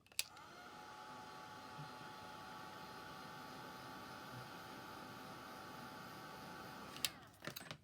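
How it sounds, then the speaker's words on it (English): A heat gun blows steadily for about seven seconds on a stamped butterfly craft design, a continuous airy roar that stops abruptly, followed by a few brief clicks. "So I've just blasted that with a heat gun"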